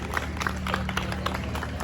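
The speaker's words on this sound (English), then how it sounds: "So let's give yourselves a nice round of applause." Audience applause at a powwow round dance with the Four Directions Drum in Portland, Oregon, a scattered patter of hand claps over a low steady hum, moderately loud and brief, with no talk.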